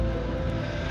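A steady, low truck engine rumble drones continuously at close range, an idling motor with no other sounds.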